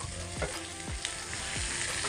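Carrots, peas and capsicum fry in a hot wok for fried rice, giving a steady loud sizzle throughout with a few scraping stirs of the spatula.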